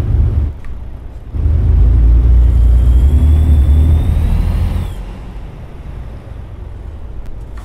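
Heavy truck engine in American Truck Simulator, a deep steady rumble with city traffic around it, swelling loud for a few seconds and then easing back to a quieter drone as the truck slows in Wyoming town streets.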